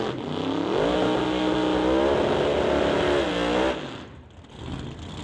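Supercharged Acadian door-slammer drag car at a drag strip holding a loud, high engine rev during a burnout, a sustained roaring whine that cuts off sharply near the end, with a lower rumble following.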